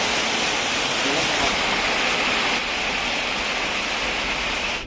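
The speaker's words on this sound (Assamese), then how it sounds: "কি ধুনীয়া বৰষুণ দিছে" Rain falling steadily outdoors as a dense, even hiss that stays loud from start to finish, with no voices over it.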